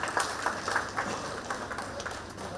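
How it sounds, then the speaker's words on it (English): Audience applause welcomes the Chief Justice at a human rights commission event, a steady spread of moderate, slightly distant clapping from a hall crowd. "Please give a big applause in welcoming our Chief Justice."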